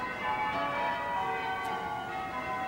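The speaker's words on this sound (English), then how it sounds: "Bells at St Margaret's that have rung on so many historic occasions, now telling the people of central London that it is past noon" Church bells of St Margaret's, Westminster, in central London, pealing at noon on 1 January 2000, a dense, continuous ringing of overlapping tones that carries steadily throughout, with no voices.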